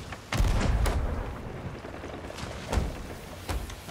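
Sea of Thieves sloop cannon fire: several heavy booms land one by one over a rumbling, watery background, the first loudest, followed by further deep thuds.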